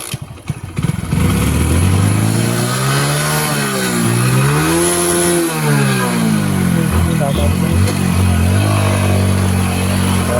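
A motorcycle engine, started after the bike has fallen, catches after a second and runs loud and close, revving up and back down through the middle before settling into a steady idle, with voices over it.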